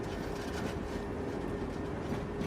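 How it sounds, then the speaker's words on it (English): A train pulls away from the station in Samarkand, Uzbekistan, on a Silk Road luxury tour, giving a steady, continuous rumble of rolling railcars with faint rhythmic clatter and no voices. "the train sets off again"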